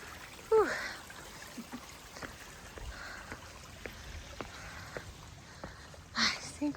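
A stream runs steadily past a water crossing and footbridge on a hiking trail in the Appalachian mountains. Low, continuous trickling and splashing sits at moderate distance, with a few brief knocks and rustles of movement over it.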